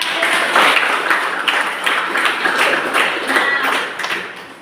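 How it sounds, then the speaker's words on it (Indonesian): Audience at an event applauding, a loud, dense crowd clap with a slightly pulsing rhythm that carries on steadily for several seconds, close and full without speech. "kita beri tepuk tangan"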